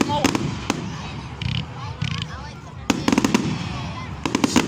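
Fireworks exploding on bonfire night, with rapid crackling bursts in quick clusters, some loud and near, between quieter gaps, while people talk in the background.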